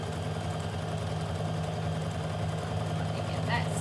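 A sewing machine stitches fabric with a steady, even motor hum and a light mechanical rattle that runs without a break, under a person talking nearby.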